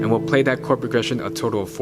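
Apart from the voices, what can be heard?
No everyday noise stands out behind the speech.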